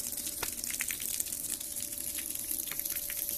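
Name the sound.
electric water pump draining a bucket of water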